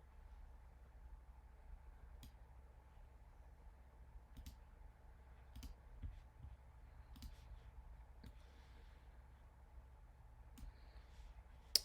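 Sharp, light mouse clicks repeat at a steady pace, roughly every second or so, while points are traced in illustration software, standing alone over a faint hum with no talking.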